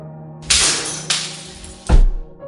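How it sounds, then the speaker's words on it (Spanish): Phone screen glass shattering as a sound effect, three sharp bright crashes in quick succession, the last with a heavy low thud, loud and isolated over a faint low hum. "Escuché el cristal romperse."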